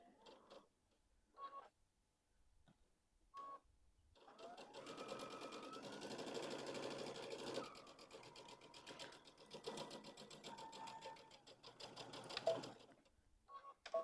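A home sewing machine stitches a seam on a child's pumpkin pillow, running in a steady rapid whir for about ten seconds after a few quiet ticks, fairly close and alone with no talk.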